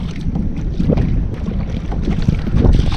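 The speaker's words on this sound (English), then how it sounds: "It's a bit breezy today." Steady wind blusters over the microphone on a saltwater Hobie kayak out fishing near Matlacha, Florida, a constant low rumble with soft water slaps close by.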